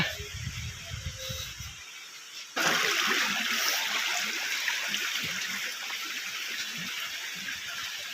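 Water flows steadily at Jateswar in Keonjhar, a broad rushing hiss that swells abruptly partway through and then holds loud and close, after a brief quieter stretch with a low voice at the start.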